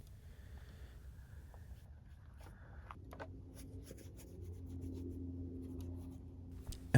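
A paintbrush sweeps across watercolor paper, laying a warm wash of mixed oranges, reds and yellows; soft, faint scratchy strokes continue steadily in a quiet room.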